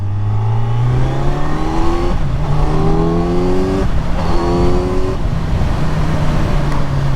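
Kawasaki Z900 SE motorcycle rolling off through gears with its quickshifter, the engine note stepping down repeatedly in quick drops, loud and close from onboard with steady wind rush underneath.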